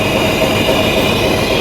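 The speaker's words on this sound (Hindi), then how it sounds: "तो फाइनली दोस्तों ये हमारी हेरिटेज ट्रेन आपके सामने, जी हाँ दोस्तों, आ चुकी है पाताल पानी।" The Patalpani–Kalakund heritage train rumbles by close and loud in a steady, continuous roar of rolling wheels and carriages, with no pause and no voices.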